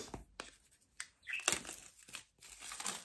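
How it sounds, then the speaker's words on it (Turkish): A plastic package is ripped open by hand, giving close, crisp bursts of crinkling and tearing in several uneven pulls with short pauses between them. "Şöyle rastgele yırtıyorum. Bunu yırtmak ne kadar keyifli lan şöyle şerefinden."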